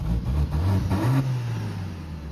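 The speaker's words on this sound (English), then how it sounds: "Let's give it a little rev in closed valves." A Mercedes-AMG GT 53 revved with its exhaust valves closed, a close, fairly muted engine climbing and then falling back to a steady low drone, with no speech.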